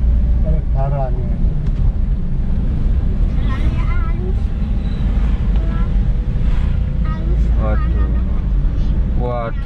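Strong wind roars steadily against the microphone on an outdoor walk along a road, a constant heavy rumble with people talking over it.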